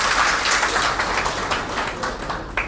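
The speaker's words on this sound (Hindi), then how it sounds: "एक बार जोरदार तालियां हम हेल्थ स्टाफ के लिए।" An audience in a hall gives sustained applause for health staff, dense and steady clapping filling the whole moment with no voices over it.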